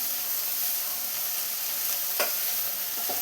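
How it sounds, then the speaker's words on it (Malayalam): Kerala-style payar thoran is mixed in a pan with coconut oil, a steady soft sizzle with a couple of brief scrapes of the spoon near the end, close and fairly quiet. "ഇനി നമുക്ക് ഇതെല്ലാം കൂടെ ഒന്ന് മിക്സ് ചെയ്തെടുക്കാം."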